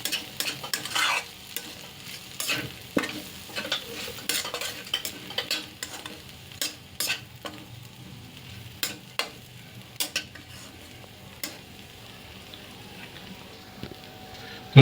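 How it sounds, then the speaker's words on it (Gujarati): Green chickpeas sizzle and fry in a pan with repeated scraping stirs of a spoon, close up and fairly steady, with sharp clinks from the utensil against the pan and no voices. "આ લીલા ચણાને આપણે અને સાતળી લઈશું 1 મિનિટ માટે"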